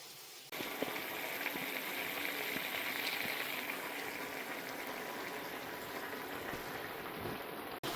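Potatoes for aloo posto bubble in a pot with a steady, close, soft boiling hiss and gurgle. It keeps an even level for several seconds, with faint clinks near the start and end.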